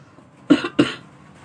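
A person coughs twice in quick succession, close and loud, against a quiet background with no talking.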